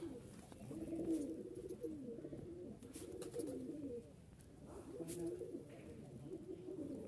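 A pair of Giribaz pigeons, male and female, coo softly in repeated low rolling phrases, faint and close by.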